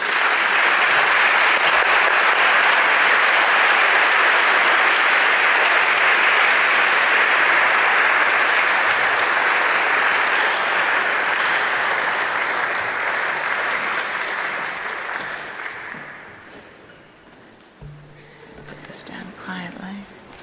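An audience applauds warmly as a professor is welcomed to the podium at an inauguration, a dense, steady roar of clapping for about fifteen seconds before it thins out and fades.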